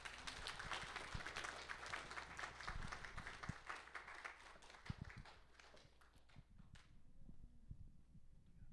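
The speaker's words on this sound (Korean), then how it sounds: "크게 박수로 환영하겠습니다" Church seminar audience claps to welcome a speaker, a steady mass of hand claps that thins out and fades near the end, faint and somewhat distant.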